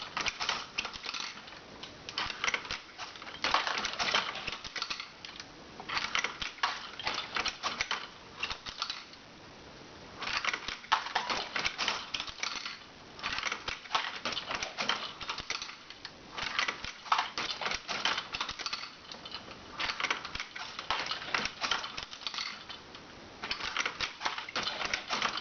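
A Lee Pro 1000 progressive reloading press loads .40 caliber rounds, with repeated rattling, clacking mechanical cycles in close, regular bursts separated by short pauses, rough and metallic throughout.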